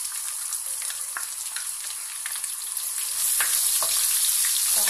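Garlic frying in oil in a pan for Rajasthani dal gives a steady, close hiss and crackle, with a few small pops and scrapes, growing slightly louder midway through.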